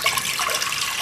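Water pours steadily into a pressure cooker holding chunky cut onions for a Punjabi beef biryani, a brief, continuous splashing rush heard close and alone.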